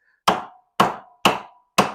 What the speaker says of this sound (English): we're going to go with the lead hammer here